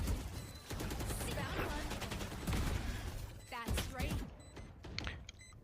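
Rapid game gunfire in a tactical shooter round, a burst of close shots and clattering reports with brief pauses, continuing alongside other in-game action and effects.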